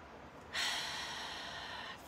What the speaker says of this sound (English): And then we can let it exhale.